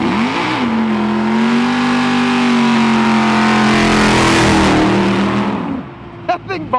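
A race car engine holds a loud, sustained rev with a droning pitch that sags as it bogs down, then drops away into brief clatters and knocks near the end.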